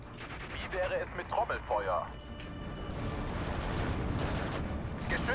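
Gunfire and artillery booms from the WWII tank strategy game Steel Division 2, a dense battle din of shots and rumbling blasts, with someone talking over the start before the noise swells into a steady roar.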